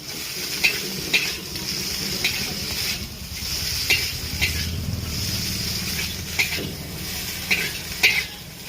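Noodles are stirred in a restaurant pan over a continuous hiss of frying, with repeated metallic scrapes and clinks of the utensil against the pan at an irregular pace.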